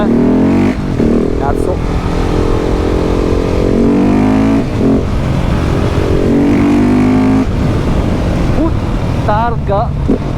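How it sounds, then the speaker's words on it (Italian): A KTM 690 SMC R supermoto roars loudly at close range while being ridden, its intake howling as revs rise and fall through gear changes. Wind noise rushes over the engine, and a rider's voice is briefly heard. "Sentite l'urlo dell'aspirazione?"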